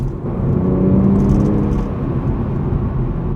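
Exhaust note of a BMW M340i while it is being driven, a steady, deep engine rumble heard from inside the car, loud and continuous with no talking.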